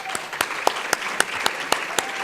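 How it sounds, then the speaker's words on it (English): Audience applause at a closing session of a conference, a short burst of regular, evenly spaced claps with a few hands in a room, moderately loud and close. "Let's clap for Egypt."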